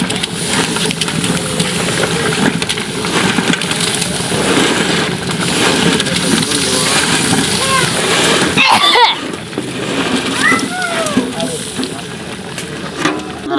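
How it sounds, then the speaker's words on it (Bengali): Rui fish pieces go into a simmering potato curry in a hot pan: a continuous close sizzle and hiss, with a brief sharp splash-like burst near the end before the bubbling settles again. "বন্ধুরা আলুর তরকারিতে মাছগুলো ছেড়ে দিলাম"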